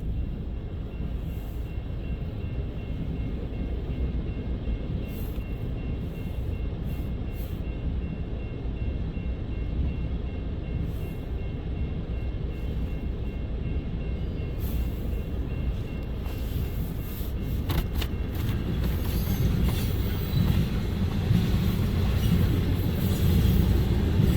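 CN freight train 3280 hauling a diesel oil load rolls past at Ladysmith, a steady low rumble of wheels and cars that continues throughout and swells slightly near the end, with faint clicks over the rails.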